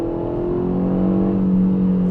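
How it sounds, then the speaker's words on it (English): Kia Ceed GT facelift hot hatch (2022) under acceleration, its engine giving a steady, close droning hum that rises slightly in pitch over a couple of seconds, with no talking. "The engine sound is a little bit noisy when you drive in sport mode"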